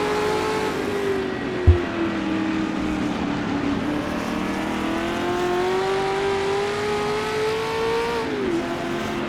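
Racing-game engines of 1960s sports cars at the 1966 Goodwood Tourist Trophy, including a Lola and a Brabham: a loud, continuous engine drone holding steady, rising slightly, then dropping near the end, with a brief thump early on and no speech.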